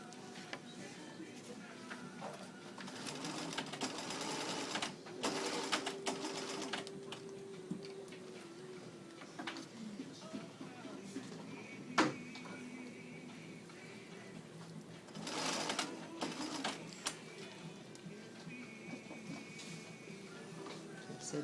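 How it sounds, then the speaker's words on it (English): A sewing machine stitches the sleeves and side seams of an aloha shirt at a 5/8 seam allowance, running in a few brief, close bursts separated by quieter stretches with faint background noise. "You just sew it together, 5/8."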